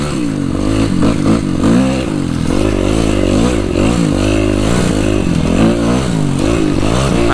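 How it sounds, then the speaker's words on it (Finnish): A Suzuki RM-Z250 motocross bike runs close by, its buzzing engine revving up and down in repeated bursts with no talking. "Siitä saadaan mopo käyntiin ja sit mennään."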